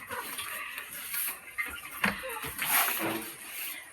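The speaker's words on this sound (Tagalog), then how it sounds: "May nag-agas ang tubig." Water runs and splashes steadily at moderate distance, a continuous wash with irregular spatters, while faint voices carry in the background.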